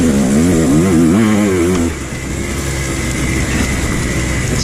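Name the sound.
enduro motorcycle being ridden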